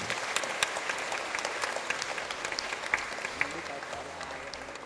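Sustained applause from a church congregation at a Catholic confirmation Mass led by the archbishop in a parish hall, dense and steady for the whole stretch with scattered sharper claps and faint voices mixed in.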